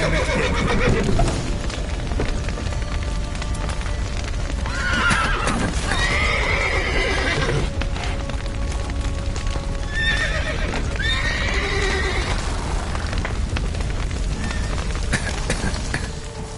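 Horses in the Witcher III video game neigh and whinny loudly while hooves clip-clop at a gallop, layered over dense, busy game ambience with no pauses.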